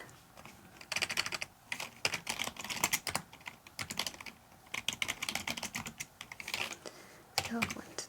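Rapid bursts of keystrokes on a computer keyboard, close and crisp, typed in uneven runs with brief pauses during a therapy role-play setting.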